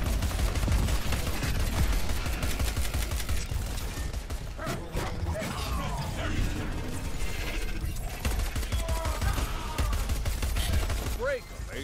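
Dense weapon fire in the game Crackdown 3, rapid bursts of gunfire mixed with mechanical clatter and explosions, loud and continuous throughout with a busy battle soundscape.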